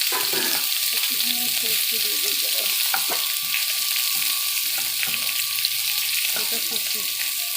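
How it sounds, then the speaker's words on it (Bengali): Lightly crushed garlic fries in a pan for a Bengali hilsa fish and taro stolon dish, giving a loud, steady sizzle with occasional stirring scrapes. "একটু হালকা করে রাখা রসুন দেওয়া হলো, এটাকে একটু ভেজে নিই।"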